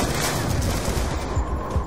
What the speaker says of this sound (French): ça tire chaud